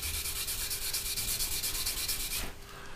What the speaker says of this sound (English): come along with your coarse type sanding sponge